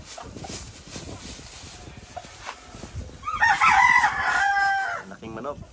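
A large rooster crows once, loud and close, in a drawn-out cock-a-doodle-doo that ends with a short trailing note. Softer clucks and farmyard rustling come before it.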